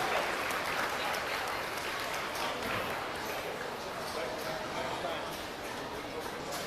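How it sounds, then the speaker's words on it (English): An audience at a youth fair livestock show applauds the Class 3 swine showmanship exhibitors, sustained dense clapping from a crowd in an arena, steady and fairly loud for the whole stretch. "Let's have a round of applause for all of our Class 3 exhibitors"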